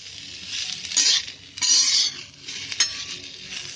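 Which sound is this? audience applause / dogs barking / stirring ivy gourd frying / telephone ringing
stirring ivy gourd frying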